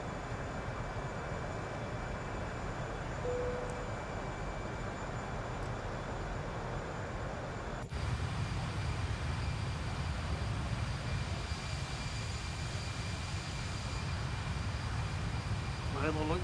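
Airbus A340-300 airliner engines during a climb in a Microsoft Flight Simulator game, a steady broad roar and hum that rises slightly in level partway through, continuous and even.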